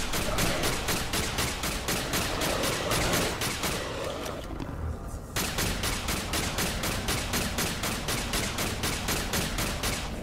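A turret in Alien Breed 3: Descent unloads rapid, evenly spaced automatic fire, loud and close, pausing briefly for about a second midway before resuming the same relentless rhythm, with no talk over it.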